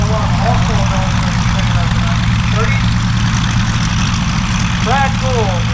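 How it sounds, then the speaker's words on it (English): A Great Lakes sport trainer biplane with a Warner radial engine idles at an antique airshow. It gives a steady low drone under continuous talk, with faint whistly tones over it. "Brad Gould is his Great Lakes sport trainer with a Warner radial engine"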